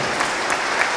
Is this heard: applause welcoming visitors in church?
yes